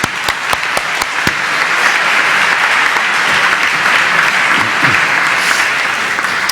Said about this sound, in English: So if we could hear just a round of applause for those folks.